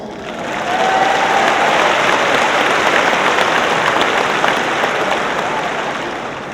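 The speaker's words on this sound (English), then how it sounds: "Let's give our families, friends, teachers, and the internet a round of applause." A crowd at a high school graduation applauds steadily for several seconds, a dense wash of clapping that swells in quickly and holds loud before easing slightly at the end.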